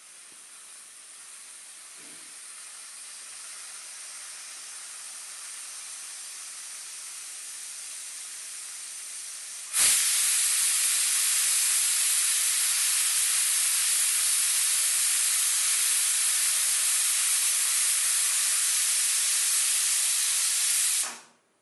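A pressure cooker on the stove with its weight on, cooking plantain pith soup: a faint hiss slowly builds, then bursts into a loud, steady, close jet of escaping steam that runs for about twelve seconds before stopping abruptly.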